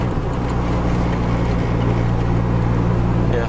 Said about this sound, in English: I can definitely hear the LSD going. You hear that little bit of gear whine